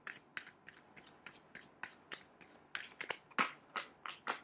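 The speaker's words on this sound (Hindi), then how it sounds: "ओ, मैं शफल करना भूल गई" Tarot cards being shuffled by hand, a quiet close series of quick riffling bursts repeating in a steady rhythm, about a dozen short flurries with no talking.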